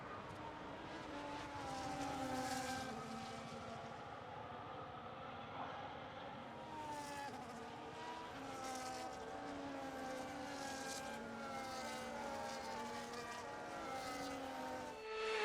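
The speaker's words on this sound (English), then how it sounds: "the formation lap is underway ahead of today's sprint" Formula 1 cars in the F1 25 racing game roll around a US circuit on a sprint formation lap, their engines humming and droning steadily together with shifting pitch throughout.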